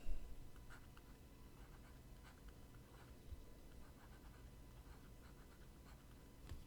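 A pen scratches faintly across paper with soft, irregular strokes, close and quiet against a low background hiss.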